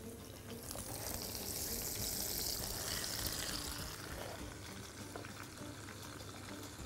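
Fish sizzling and frying in a hot pan, a soft steady hiss with faint bubbling crackle, quiet and close, without talk.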